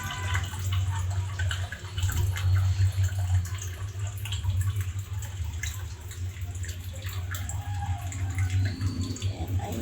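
A weak trickle of water runs from a household tap, a thin, continuous splashing and dripping with a low hum beneath it, close and steady throughout.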